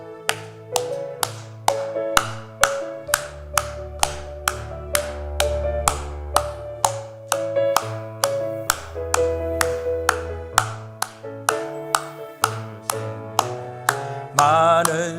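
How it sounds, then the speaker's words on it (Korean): Church congregation clapping in steady rhythm along to worship music, sharp regular claps on each beat over sustained keyboard chords and bass, loud and close, with no voices heard in the passage. "우리 박수 치면서 힘차게 찬양합시다."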